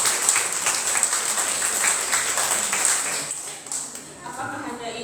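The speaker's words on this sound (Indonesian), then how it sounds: "Tepuk tangan dulu untuk sekalian." An audience at a novice welcoming recreation event claps in a moderate, continuous round of applause that tapers slightly near the end, with some voices underneath.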